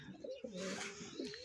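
Pigeons in nest boxes holding eggs and chicks give a run of soft, rolling coos close by, rising and falling in a continuous low warble with little else around.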